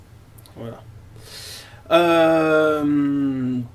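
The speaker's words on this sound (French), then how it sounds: "si vous entendez des bruits bizarres, c'est mon chien qui est sous le bureau qui est en train de faire des conneries" A dog under a desk lets out a brief whine followed by a sustained, harmonic howl-like whimper lasting a couple of seconds; someone speaks briefly just before it.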